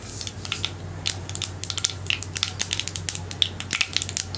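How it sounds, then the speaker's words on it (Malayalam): Mustard seeds popping in hot oil in a pan, a dense run of sharp crackles and pops, close and steady over a low background hum. "അപ്പോൾ നമ്മുടെ കടുക് പൊട്ടിക്കൊണ്ടിരിക്കുന്നുണ്ട്."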